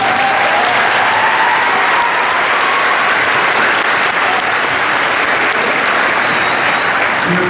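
Sustained, loud applause from a large audience at a school promotion ceremony for graduating students, steady clapping filling the whole stretch with a faint crowd murmur beneath.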